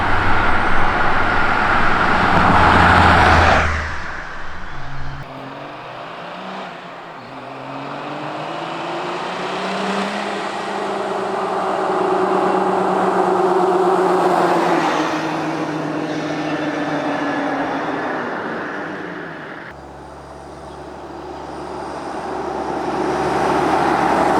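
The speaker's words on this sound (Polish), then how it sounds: "chciałem zobaczyć po prostu jak bardzo szumią same opony" Car tires hum and roll steadily on pavement, a continuous road roar that swells and fades as the vehicle coasts along.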